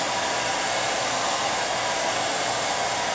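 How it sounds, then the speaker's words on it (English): A Bionic blow dryer runs continuously with a steady, loud airy roar and no pauses or talk. "This is the best blow dryer ever that I've had."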